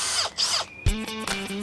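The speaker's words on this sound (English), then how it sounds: "I'm drilling a hole, mate." Power drill from a 2017 EI Engineering 20T-600mm machine setting drilling a hole, a few short whirring bursts with gaps between, close and loud, motor pitch rising and falling.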